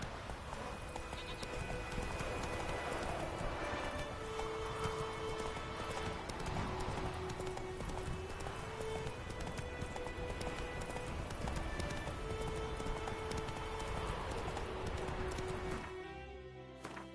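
A horse gallops in The Witcher 3, a fast, continuous clip-clop of hooves up close over a soft melodic score, with a brief whinny before the hoofbeats fade out at the end.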